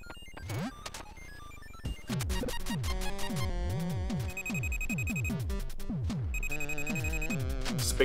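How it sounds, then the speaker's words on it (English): A phone rings in the retro 8-bit video game Retro City Rampage, with bursts of electronic ringing tones over busy chiptune music and quick game sound effects. "Big phone call."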